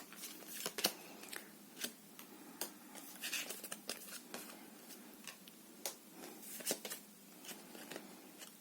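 Tarot cards being shuffled by hand for a reading, a run of soft, crisp riffling flutters and light slaps in irregular bursts, close and quiet with no talk.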